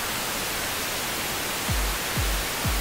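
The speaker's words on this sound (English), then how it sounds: "I would put the pink noise in" Steady broadband pink noise from an audio plugin fills the whole stretch, loud and constant, with three deep kick drum thumps ducking it near the end.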